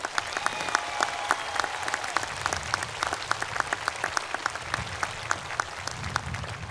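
Commencement audience at CSUDH bursts into dense, sustained applause, many hands clapping steadily throughout with a faint cheer underneath.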